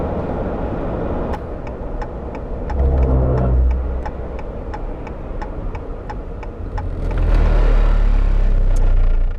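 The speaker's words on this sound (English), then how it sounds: "That's just a rumble strip." A Dodge RAM 1500 pickup with an 8-speed transmission rolls over a highway rumble strip, giving a rapid, evenly spaced run of thumps over a steady low road and engine drone that swells louder near the end.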